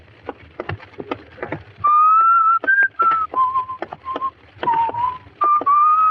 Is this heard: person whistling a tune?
yes